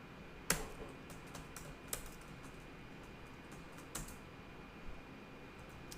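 Light typing on a computer keyboard while writing a SQL Server stored procedure, sparse, quiet key clicks spaced a second or two apart over low background hiss.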